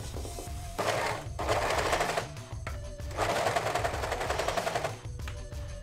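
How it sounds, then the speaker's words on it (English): An overlocker serges stretch fabric for a cosplay costume in loud, rapid bursts of rattling stitching, stopping and restarting several times at close range. "I will be using my special attack, the overlocker"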